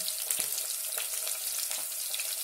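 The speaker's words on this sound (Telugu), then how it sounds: "ఆనియన్స్ వేగుతూ ఉంటాయి." Onions fry in a pan for a steady, close sizzle with a dense crackling hiss that holds evenly throughout, a few louder pops standing out, no voices.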